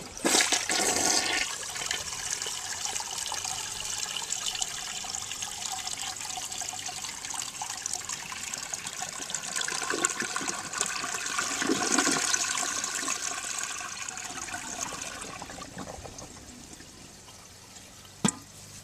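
A 1970 American Standard Cadet toilet, with dishwashing liquid added to the bowl, flushes in a long rushing swirl of water that gradually tapers into trickling refill, heard close and alone.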